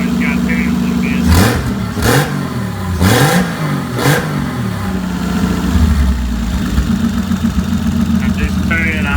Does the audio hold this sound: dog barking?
no